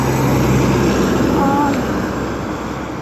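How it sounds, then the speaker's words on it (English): Steady roaring traffic noise fills the air as trucks rumble past nearby on the street, a broad continuous wash that fades slightly toward the end. "You can hear the trucks going by."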